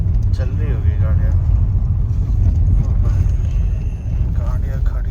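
Cars rumble along a road at night near Jim Corbett, a continuous low traffic drone under constant nearby talking.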